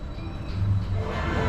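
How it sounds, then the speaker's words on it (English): A theme park roller coaster train waits in the station at Energylandia, preparing for dispatch, giving off a steady mechanical rumble and hiss with a low droning tone that swells slightly. "Train's just preparing for dispatch now."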